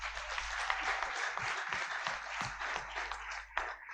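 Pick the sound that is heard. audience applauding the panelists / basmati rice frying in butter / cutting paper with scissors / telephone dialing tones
audience applauding the panelists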